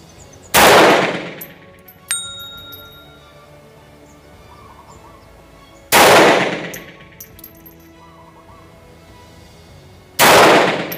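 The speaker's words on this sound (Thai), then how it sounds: "ครับเดี๋ยวเราจะมาทดสอบ Water PPK S ตัวนี้ดูนะฮะว่าปืนขนาดลำกล้องสั้นๆแบบนี้นะครับผลงานเขาจะเป็นยังไง" Three loud, sharp shots from a Walther PPK/S short-barrel pistol fired several seconds apart, each with a brief echoing tail, a faint metallic clink between the first two, and quiet outdoor ambience with birds in the gaps.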